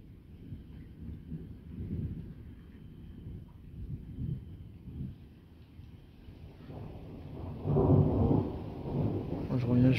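Deep thunder from a violent summer thunderstorm with intense lightning rolls in low, rumbling waves through wind and rain noise, building to a louder, closer peal near the end, with a voice talking faintly underneath.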